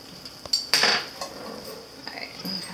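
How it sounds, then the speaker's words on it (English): A metal spoon stirring canned stock in a pot, a few clinks and scrapes against the pot rim, close and fairly loud, with no talking. "I'm going to stir this in."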